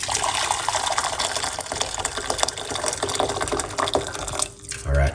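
A cup of water poured out in a steady, close gushing stream that runs for several seconds, then thins and stops near the end with a soft thump.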